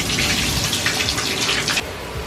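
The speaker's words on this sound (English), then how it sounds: "we are just gonna go and pop into the shower and rinse it off with water" A shower runs while hair is rinsed with plain water, a loud, steady hiss of spray that cuts off abruptly near the end, leaving a quieter background.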